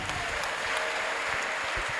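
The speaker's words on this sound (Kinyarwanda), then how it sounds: "twongere iyo Mana amashyi menshi cyane" Steady applause from a crowd, dense overlapping claps filling the whole stretch at an even, lively level.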